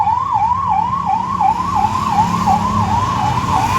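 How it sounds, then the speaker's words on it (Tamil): An ambulance siren wails loud and close in an early-morning Chennai street, its steady rising and falling tone repeating over low traffic rumble. "ஆம்புலன்ஸ் போகுது."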